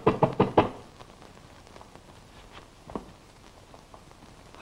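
Someone raps on a door in a quick burst of four or five sharp knocks, close and loud, then quiet room tone with a couple of soft bumps in a 1933 crime drama scene.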